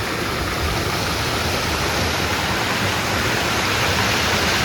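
Steady, loud rush of a full, flowing village stream filling the whole clip, a dense broadband roar with no breaks, like a swollen stream close by.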